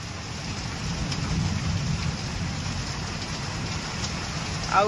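Heavy rain with thunder, a dense steady hiss of downpour that stays constant and fairly loud throughout, with a faint low rumble underneath.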